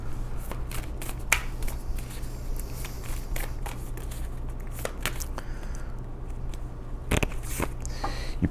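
Tarot cards are shuffled and pulled in a steady run of soft riffling flicks and snaps, close and quiet, with a few sharper card slaps near the end.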